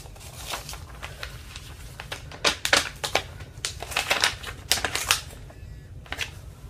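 Paper crinkling and tearing as a fan mail envelope is opened, with irregular crisp rustles and rips, close and fairly quiet, and no voices.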